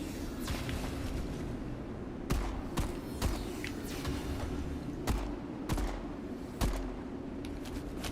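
Pistol shots crack in the first-person shooter Metal Garden, set in an abandoned megastructure: about six sharp, fairly loud reports in irregular bursts over a steady low ambient hum.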